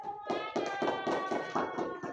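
Children clap their hands together in a classroom, a quick run of about eight sharp claps at a brisk, slightly uneven rhythm, moderately loud and close.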